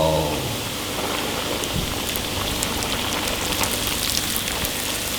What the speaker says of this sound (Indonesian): setelah minyaknya panas langsung kita goreng